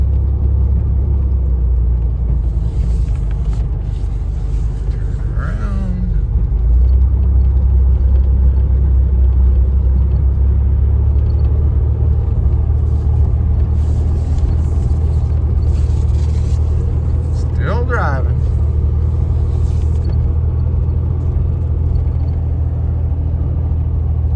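A 1987 Ford Bronco II, running again after sitting 15 years, drives in second gear with a loud, steady low engine rumble and road noise, with a couple of brief squeaks over it.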